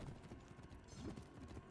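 Horse hooves clip-clop in the medieval combat game For Honor, a steady rhythmic trot running through the whole short stretch, fairly muffled and low in level beneath game ambience, with no talk.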